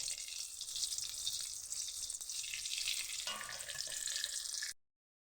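Bitter gourd with whole onions fries in hot oil, giving a steady, fairly faint sizzling hiss that carries on evenly with no voices and then cuts off abruptly.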